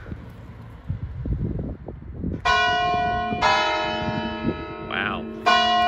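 Wind and scuffling footsteps, then church bells ring out loud and close, with rich sustained tones that overlap and swell in repeated strokes.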